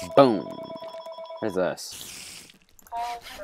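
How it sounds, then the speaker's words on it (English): A phone rings in a room, several short ringtone bursts with pauses between them, close and fairly loud, with a person talking over and around it. "Sorry, that's my phone."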